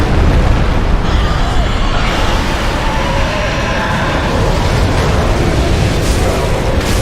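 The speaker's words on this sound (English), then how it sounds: "But in comes a dragon." A dragon attack in Dark Souls 3 fills the scene with a loud, sustained roaring blast of rumbling fire and booming noise that stays dense throughout.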